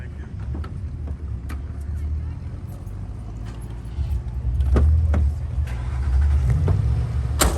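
A station wagon rolls past during a classic-car cruise at the 2024 Back to the Bricks ribbon-cutting event, its engine rumble swelling as it nears, while people talk nearby.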